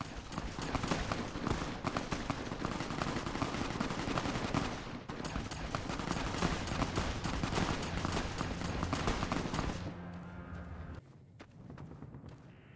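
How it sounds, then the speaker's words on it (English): Gunfire in Fallout: New Vegas rattles in dense, rapid bursts like machine-gun fire, loud and nearly continuous for about ten seconds before dropping away into quieter scattered noise. "gunshots are the sound of not my business"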